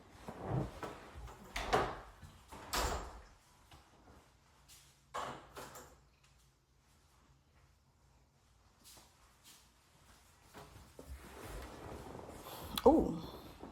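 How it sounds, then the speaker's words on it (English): Indoors, a door is opened with quiet knocks, clicks and soft thuds scattered across the stretch, separated by near silence, with a few louder handling noises near the end. "RJ, do not open the door again"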